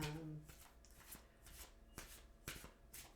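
Tarot cards from an Atlantis deck being shuffled and drawn, a series of soft riffling bursts and papery slaps repeating every half second or so, close and fairly quiet, with no talking.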